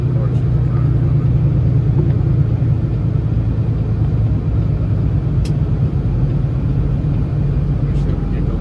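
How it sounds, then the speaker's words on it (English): A car approaches along a main street near stoplights during a storm, a loud, continuous low rumble of engine and road noise that stays steady throughout, with no talking. "of course, there's a car coming."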